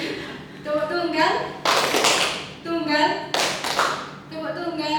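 Rhythmic hand claps from a classroom single-and-double clapping game, bursts of group clapping alternating with a chanting voice leading the pattern, close and lively.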